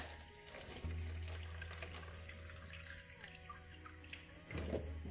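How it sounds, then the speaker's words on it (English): Juice drained from seasoned meat for Haitian griot pours in a steady, continuous trickle that swells slightly near the end, faint and close, with no talk. "I'm gonna drain that real quick. Take the juice out."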